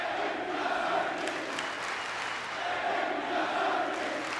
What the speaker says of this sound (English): As he was given a hero's welcome by the electric crowd that were in attendance